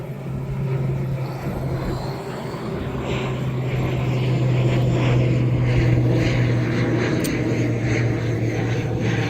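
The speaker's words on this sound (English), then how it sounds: "we just got an aircraft taking off" An aircraft takes off, a loud, steady engine drone with a low tonal hum that swells and holds over several seconds, heard alone outdoors.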